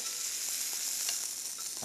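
Vegetables stir-fry in a hot pan with a steady close sizzle and light stirring scrapes, alone and continuous.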